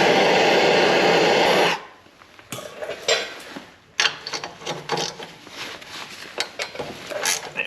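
A wrench works a heated exhaust nut off its stud after a torch hiss cuts off, followed by scattered metallic clinks, ratcheting and scraping knocks at close range.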